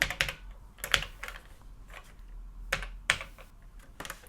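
Keys on a vintage Atari computer keyboard are tapped during a test after a rebuild: irregular clusters of crisp, close clicks, some sharper and louder, over a faint background hiss.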